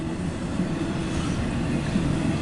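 A CSX intermodal freight train rolls past close by, a steady loud rumble of wheels and cars filling the whole stretch with no letup.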